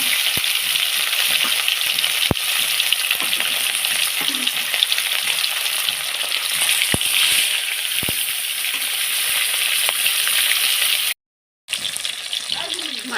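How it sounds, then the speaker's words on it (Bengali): Pieces of fish fry in hot oil in a pan, a loud, dense, continuous crackling sizzle heard up close that runs almost the whole time, broken by a brief dropout near the end. "এবারে কড়ার মধ্যে তেল দিয়ে দিচ্ছি মাছ ভাজার জন্য।"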